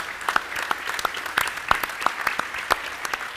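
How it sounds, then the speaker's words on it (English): An audience at an evening panel discussion gives a steady, close round of applause, dense overlapping handclaps with no talk over them. "If you could all please join me with another round of applause."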